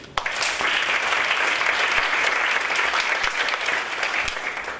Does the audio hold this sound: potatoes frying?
no